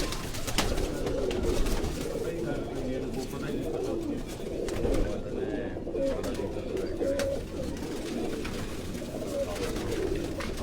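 Caged pigeons coo steadily and close up, a dense low burbling chorus lasting throughout, mixed with faint chirps and occasional murmuring voices in the background.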